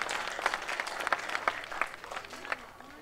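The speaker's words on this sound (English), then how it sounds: "Let's give him a round of applause somewhere he is" An audience at an MLK celebration applauds, a moderately quiet, scattered patter of many hands with a few sharper individual claps standing out, gradually tapering toward the end.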